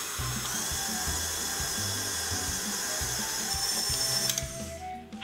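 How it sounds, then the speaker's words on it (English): An electric mixer whirs steadily on medium speed, beating sugars for chocolate chip cookie dough, its motor hum constant and close before cutting off abruptly at the end. "I'm going to add my sugars and beat on medium for about 3 or 4 minutes until they become fluffy"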